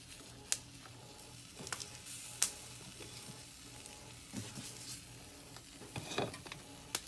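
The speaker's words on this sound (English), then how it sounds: "You can hear them sizzling." Chile peppers and tomatoes sizzle and fry in a pan with a steady crackling hiss, broken by a few sharper pops and spatters, heard close with no talking.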